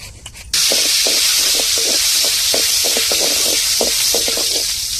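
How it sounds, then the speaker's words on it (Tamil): Mustard seeds drop into hot oil in a pan and start sizzling suddenly, a loud, steady hiss with scattered crackles and pops that carries on alone. "இப்ப எண்ணெய் ஊத்தியாச்சு. நம்ம இப்ப கடுகு சேர்த்துக்கிருவோம்."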